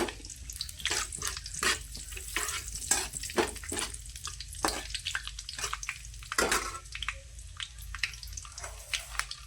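Spices and leaves sizzling in an oil-filled pan while being stirred for paneer masala, with repeated scraping strokes and crackling over a steady fry, close and moderately loud.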